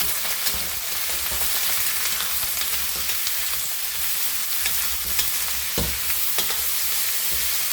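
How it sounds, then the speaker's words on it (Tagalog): Pork belly fries in a pan with garlic and onion, giving a loud, dense, continuous sizzle with occasional stirring scrapes throughout. "isasalang na natin yung ating pork belly"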